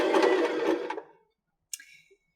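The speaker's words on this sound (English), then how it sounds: "it will do the bar tack. And do about 8 to 10 stitches" BL9 sewing machine stitching a short bar tack of about eight to ten stitches, a fast close mechanical whir lasting about a second, then a brief faint click after a pause.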